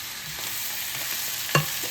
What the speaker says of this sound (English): I'm going to cook this probably 3 more minutes or so until my my zucchini and onions get soft.